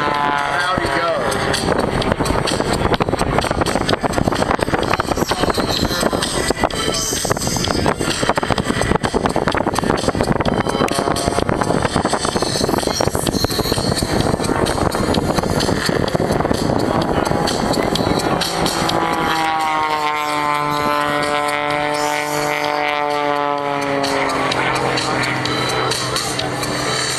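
Propeller aerobatic plane flying a hammerhead routine at the 2011 Caldwell, Idaho air show, its loud steady engine roar dropping into a rising, pitch-shifting whine near the end, with a commentator talking over it throughout.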